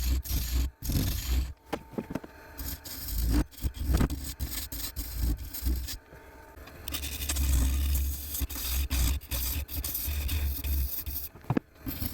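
Continuous rough scraping and rasping of a tool cutting into wood and epoxy resin spinning on a lathe, with brief pauses and bursts, loud and close with no talking.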